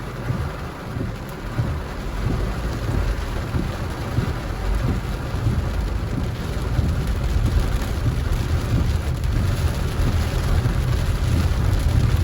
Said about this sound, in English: the rain's coming back down on the hip strip